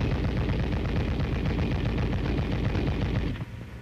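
An M73 7.62mm tank machine gun firing fully automatic in one loud, sustained, dense burst that cuts off abruptly near the end, close and with no talk.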